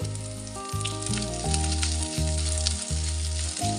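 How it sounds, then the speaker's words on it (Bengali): Small raw shrimp fry with cabbage greens in a hot pan, a steady close sizzle that runs throughout beneath stepping background music. "শাক রান্নার একটু স্বাদ বৃদ্ধি করার জন্য দিয়ে দিচ্ছি ছোট চিংড়ি, কাঁচা ছোট চিংড়ি মাছ দিয়ে দিচ্ছি।"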